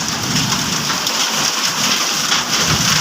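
Dense, roaring downpour of hail and heavy rain during a thunderstorm pounding a surface without letup, loud and close, with no voices.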